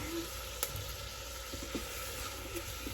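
Garlic goes into a hot cooking pan and sizzles steadily, a constant hiss broken by a few sharp crackles and light stirring noises, with no talking.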